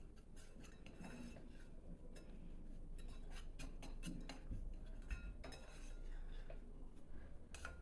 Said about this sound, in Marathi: रवा भाजताना सारखा हलवत राहायचा म्हणजे एकसारखा भाजला जातो